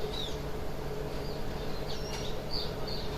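Small birds chirp outdoors with faint, thin, scattered calls heard over a steady low hum of background noise, and no one speaks.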